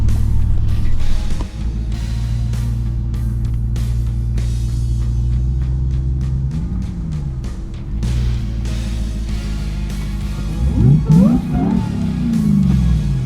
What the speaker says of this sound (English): My brakes are squeaking like crazy.